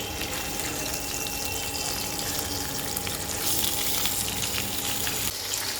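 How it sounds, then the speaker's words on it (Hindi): Fish fries in a pan in a home kitchen with a steady, moderately quiet sizzle and crackle that continues without break. No one speaks. "तो फ़िश को आधा मैंने फ्राई कर लिया है"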